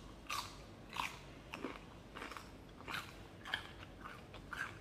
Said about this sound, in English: having a little snack of celery